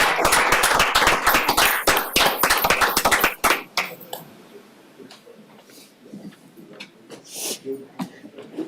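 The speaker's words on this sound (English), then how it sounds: "Please join me in another round of applause for Luann Mason and Robin Beck." A round of applause at a township board meeting: several seconds of brisk, close hand clapping from a small gathering that stops abruptly, followed by quiet room tone and a few faint sounds.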